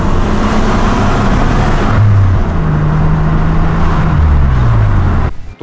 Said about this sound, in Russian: V6 с выхлопом